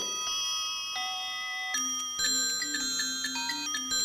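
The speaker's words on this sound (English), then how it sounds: "the bell around the lamb's neck started ringing." A small bell on a lamb's neck rings with bright chiming tones in overlapping sequence, clear notes that shift in pitch and sustain, with no voices.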